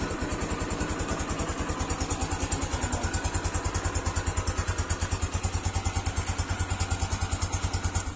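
A motorcycle engine started without a key runs at a steady idle, a close, rapid and even chugging pulse that continues alone for the whole stretch.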